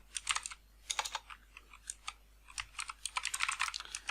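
Code being typed on a computer keyboard during Node.js app development: rapid, uneven clusters of crisp keystrokes close up, pausing briefly between bursts, with no talking.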